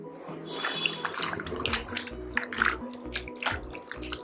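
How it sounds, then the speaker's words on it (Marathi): Water splashing and sloshing in a basin as flowers are rinsed by hand, with intermittent clinks and swishes, close by. "आता या फुलांमध्ये पाणी घालून याला स्वच्छ 2-3 पाण्याने स्वच्छ धुवून घेऊ"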